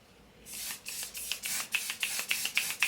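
Setting spray misted onto a face in a quick makeup routine, about ten short close hissing spritzes in a steady rhythm after a brief quiet start, with no talking.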